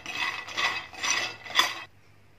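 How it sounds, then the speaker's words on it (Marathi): Peanuts being dry-roasted in a pan over a slow flame for sesame-jaggery laddoos, stirred in four scraping, rattling bursts of dry rustling that stop abruptly before a quiet tail. "आता शेंगदाणे भाजून घेणार आहे। शेंगदाणे पण स्लो फ्लेमवरच भाजायचे आहेत।"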